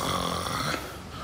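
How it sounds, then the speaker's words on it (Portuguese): Someone snores in a bar, a short, rough, rattling breath close by with no talk over it. "Eu conheço esse ronco, pô."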